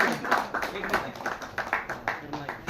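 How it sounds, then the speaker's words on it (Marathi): Clapping from a gathering of journalists in Satara honouring a senior journalist, a run of scattered, fairly close hand claps mixed with voices talking over them. "सर्वांनी टाळ्या वाजवून त्यांचं पुन्हा एकदा स्वागत करायचे"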